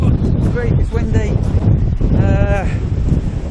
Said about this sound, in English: it's great, it's windy